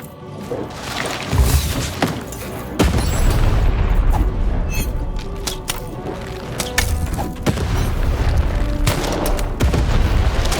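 Heavy cannon blasts boom in the Lost in Random video game during a fight with the Baroness, a few deep thuds spaced several seconds apart over constant game music and effects, with no voices.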